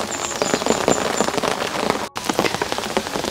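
Autumn rain falls steadily over a garden of blooming flowers, a dense, close patter of drops on leaves and surfaces, continuous with a momentary dropout partway through.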